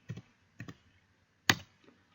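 Three quick bursts of computer keyboard typing into a terminal, close and quiet, separated by short pauses with no speech.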